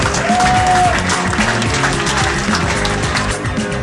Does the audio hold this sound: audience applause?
yes